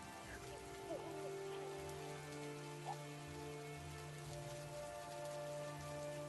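Heavy rain pours steadily as a sound effect in a Hindi horror story, a dense continuous hiss of drops on surfaces with a low droning tone running beneath, no voices over it.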